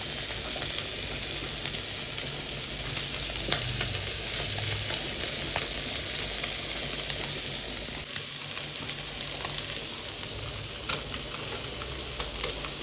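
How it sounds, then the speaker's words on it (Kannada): Fish fries on a tawa with a steady, dense sizzle and crackle, close up and continuous, with occasional stirring clinks and a brief quieter dip partway through. "ಮೀನು ಫ್ರೈ ಆಗ್ತಾ ಉಂಟು"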